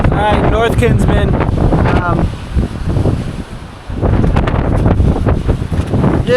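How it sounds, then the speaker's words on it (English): Loud wind roars across the Kinsman Mountains on a winter hike, heavy gusts battering the microphone, easing briefly in the middle before surging back, with a voice speaking under it at the start. "Just a little bit windy."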